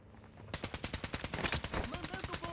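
Rapid bursts of automatic gunfire in the video game Warzone 2, likely an ISO Hemlock rifle, crack out in a steady rhythmic string of close, loud shots after a brief quiet start.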